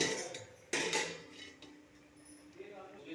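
A lid goes onto a pan of cauliflower steamed with salt and turmeric, giving one sharp metallic clank followed by faint scraping, close and quiet.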